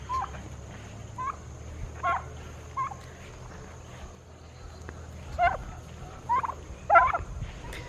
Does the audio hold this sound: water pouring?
no